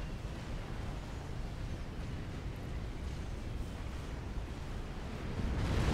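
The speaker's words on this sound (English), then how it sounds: "Volatility explosion taking tons of build capacity with it" A fusion reactor's volatility explosion in a strategy video game, heard as a low, sustained rumbling roar that swells slightly toward the end, with no voices over it.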